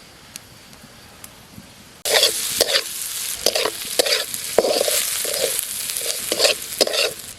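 Cumin seeds hit hot oil in a wok with a sudden loud sizzle after two seconds of quiet, then keep crackling and spitting steadily while a utensil stirs in short, repeated scrapes.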